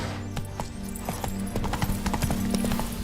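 A horse gallops in The Witcher 3: Hearts of Stone, its rapid clip-clop hoofbeats drumming steadily over a low, constant game background.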